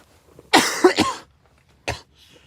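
Harsh, close coughing: a quick double cough, a short pause, then one more cough, with quiet in between.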